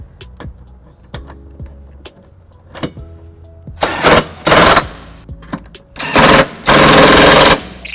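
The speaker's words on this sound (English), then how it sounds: "Now that I gotten the bolts tightened down with the cordless socket" A cordless socket driver tightens 19 mm trailer hitch bolts on a 2019 Toyota Highlander: faint clicks and ticks at first, then several loud buzzing bursts of the impact driver, close by, separated by short pauses.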